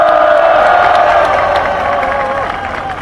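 A large crowd cheers and claps loudly at a political rally, a dense roar of voices and applause that gradually fades a little over a few seconds.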